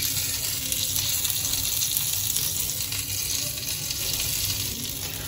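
Chopped garlic sizzling in butter in a frying pan for a veg-chicken sandwich, a steady, close, loud hiss and crackle that runs unbroken throughout with no talking.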